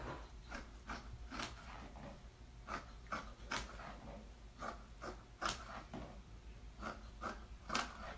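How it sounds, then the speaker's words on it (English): A puppy snoring close by, soft rhythmic snuffling breaths repeating roughly every half second, quiet and intimate with faint rubbing noises and no speech. "I have a puppy snoring."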